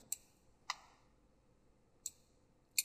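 Sharp, close computer mouse clicks sound during an R data-analysis session, four isolated clicks with a short pause between the first two and a longer gap before the final pair, each crisp and brief against a quiet background with no talking.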